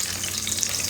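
Whole spices, bay leaf, cinnamon, cloves and cardamom, sizzling in hot oil, a dense close crackling fry that stays loud and even across the short moment, with no voices.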